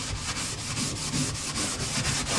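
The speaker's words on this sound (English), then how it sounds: "Now I'm just stainless steel balling it." A stainless steel scrubber scours the inside of an oven, rasping back and forth in steady strokes: a continuous, close, loud scratching with a regular rhythm and no talk.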